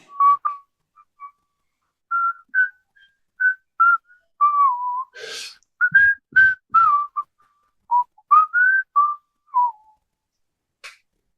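A person whistles a melody in short, clear, separated phrases, close and solo with pauses between notes.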